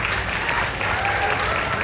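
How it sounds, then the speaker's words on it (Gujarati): An audience at a creator festival stage program claps in dense, steady applause that holds at one level without a break. "એકવાર જોરદાર તાળીઓ આપ સૌ માટે."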